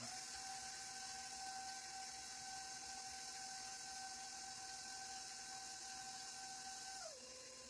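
A KitchenAid stand mixer beats cream cheese pound cake batter, a steady motor whine with a constant pitch that drops slightly near the end as the speed is turned down, heard alone.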